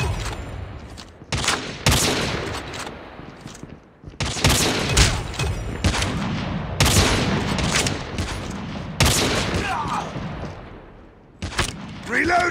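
Gunfire crackles through a raid in a sniper-only shooter game, with loud, sharp shots and bursts coming in irregular clusters close by, mixed with shouted voices.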